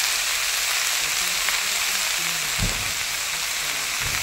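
Chili, cumin and coriander powders hit hot oil in a pan, giving a steady close sizzle with a few louder crackles and a soft stirring scrape partway through. No one speaks.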